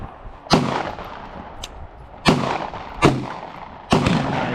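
Four loud, sharp gunshots from a .38 revolver ring out at an outdoor shooting range, spaced unevenly over a few seconds, each followed by a short decaying echo.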